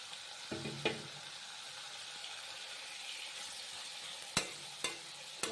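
Tomatoes go into a hot pan in a home kitchen, raising a soft, continuous sizzle and frying hiss, broken by a few sharp clinks and taps of utensils against the cookware.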